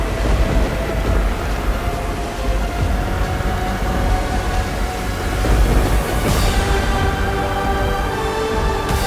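Dense, continuous roar of storm wind with low thunder rumbles, loud and steady throughout as a TV fantasy-show tempest effect, with a sharp crack near the end and no talking.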